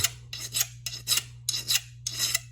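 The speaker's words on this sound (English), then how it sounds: "Notice I'm picking the file up. I'm not sawing back and forth on it" A hand file rasps across a steel broadhead blade in four separate strokes, each a bright scraping burst with short pauses between, close and clear over a low hum.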